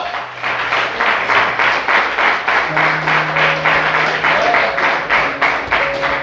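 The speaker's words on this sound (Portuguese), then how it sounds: "Aplauda ele nessa noite." A church congregation applauds during a Portuguese-language sermon: loud, sustained clapping in a steady rhythmic pulse, close and full, with faint tonal hum from the sound system underneath.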